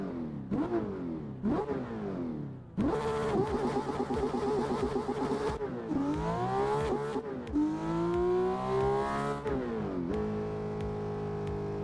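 Car engine in the racing game Assetto Corsa, starting with a few short blips, then revving repeatedly with rising and falling pitch through several sweeps, loud and close with no talk.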